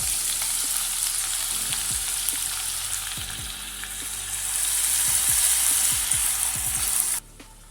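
Finely chopped medium onion hitting hot oil with crackling whole spices, a steady loud sizzle with occasional stirring scrapes, cutting off abruptly near the end.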